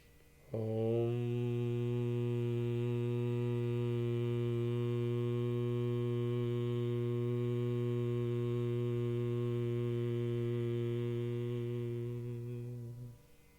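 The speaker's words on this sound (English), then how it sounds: "Deep breath in and hum out." A person humming on a long exhale during a guided throat-chakra meditation, one sustained, steady low tone that starts abruptly and fades at the end after about twelve seconds, alone and quiet.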